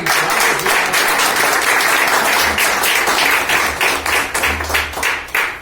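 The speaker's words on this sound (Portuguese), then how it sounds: "dá uma salva de palmas para Jesus." Worshippers at a home church service applaud for Jesus, loud close clapping from many hands that stays steady and full, thinning slightly into separate claps near the end.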